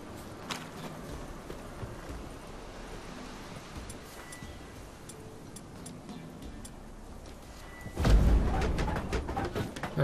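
Horse hooves clip-clopping in The Witcher 3, a soft, steady tapping of tired horses over low ambient noise, with a louder thud and rumble near the end.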